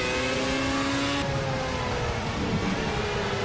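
Loud race car engine in the Project CARS video game: a continuous, close roar that shifts pitch as the car accelerates and changes gear, filling the whole moment with no talk over it.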